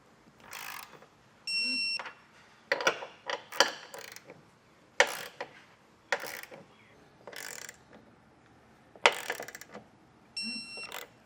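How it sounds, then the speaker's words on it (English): Torque wrench tightening the bolts of a Curt trailer hitch receiver on a 2025 Subaru Ascent, giving a series of short ratcheting clicks and metallic bursts in separate spurts with pauses between them, close and moderately loud, with no talk. "Now I'm going to torque these all down to the specs in the instructions."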